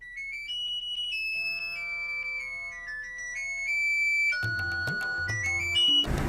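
An electronic phone ringtone plays on its own as a repeating, melodic tone sequence, loud and close, switching to a busier, layered ring pattern near the end with no talking over it.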